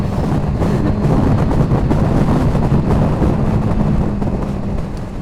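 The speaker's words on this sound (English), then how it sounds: "Although it is windy as well" Steady, loud wind buffeting a microphone while riding a motorcycle, a continuous low roar with no speech over it.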